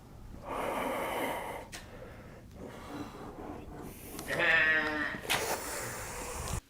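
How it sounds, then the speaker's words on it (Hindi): A goat, a male, gives strange strained bleats mixed with snorting, gasping breaths at a reputedly haunted location, the calls rough and uneven, rising in a harsher burst near the end, close by with no talk. "ये बकरा भी नॉर्मल बकरा नहीं था, हाँ, ये आवाज़ भी नॉर्मल बकरे की आवाज़ नहीं"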